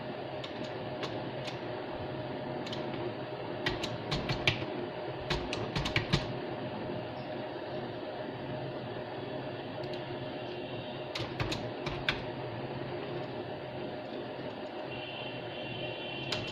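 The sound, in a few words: typing HTML code on a computer keyboard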